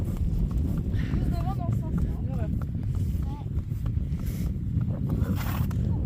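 A mare being trial-ridden as a prospective new horse walks steadily, her hooves giving a soft, continuous clip-clop beneath a person talking throughout.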